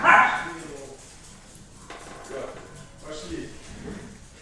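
A dog barks once sharply at the start, then softer yips and whimpers follow amid low background sound.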